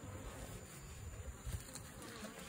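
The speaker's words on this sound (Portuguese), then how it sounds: "Dar uma acalmada nas abelhas." Bees buzz steadily inside a hollow tree trunk during a colony rescue, a dense, continuous droning hum at fairly close range with no talk over it.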